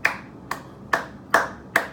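Five sharp, evenly spaced hand claps ring out close by, each a crisp slap about half a second apart with a short decay, alone with no talk.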